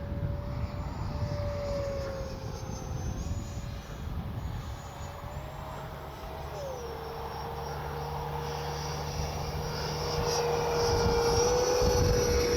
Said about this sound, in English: What a great flying little jet, even in this wind.